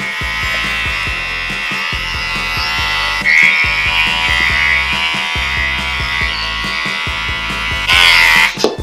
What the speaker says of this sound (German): Also ich habe das jetzt hier wieder frei rasiert sozusagen.